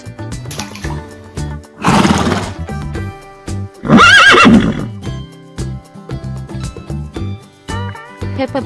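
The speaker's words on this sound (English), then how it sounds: "Horse." A horse whinnies loudly in two strong bursts over bouncy background music, with faint clip-clop rhythm in between.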